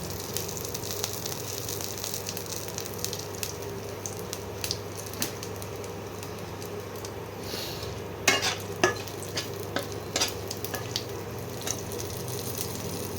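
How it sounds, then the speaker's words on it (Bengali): Cumin seeds tempering in hot oil give a steady, soft sizzle throughout, with a few sharper crackles and pops toward the end. "জিরে দিলাম ফোড়নে।"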